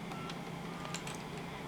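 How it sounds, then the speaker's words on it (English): A Centrex phone station dials 124, a quick series of short tones over a steady dial-tone hum, fairly faint and alone. "I'll dial 124."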